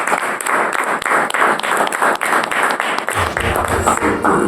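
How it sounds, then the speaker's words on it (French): Dense, continuous applause from an audience at a Belgian patriotic association gathering after a national anthem, steady and loud throughout, with a low rumble of movement or voices entering near the end. "Nous pouvons encore une fois applaudir"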